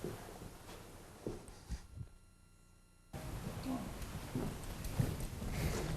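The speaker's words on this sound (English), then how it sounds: "rack where Katie is cleaning Frosty Checks, a 3-time world champion reining cow horse" A three-time world champion reining cow horse stands on a wash rack floor; its hooves clop and shift irregularly nearby, broken by a brief silence, amid ambient barn noise.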